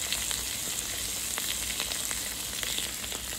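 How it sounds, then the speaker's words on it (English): An egg sizzles and fries in a hot waffle maker, a close, steady crackle with scattered sharp pops throughout and no one talking. "You hear that sizzle?"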